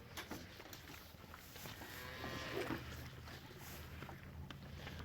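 Cows in farm pens give a low moo partway through over a continuous background rumble at moderate distance. No talk is heard.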